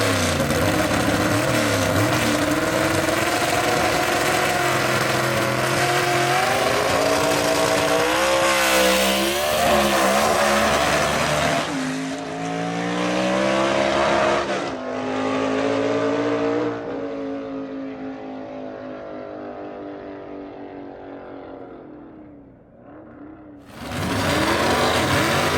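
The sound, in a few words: 1931 Ford Tudor gasser race car accelerating at drag strip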